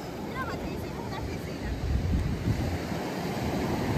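Surf breaking along Navarre Beach, a continuous rushing wash of waves mixed with gusty wind noise on the microphone, swelling louder midway, with people talking over it.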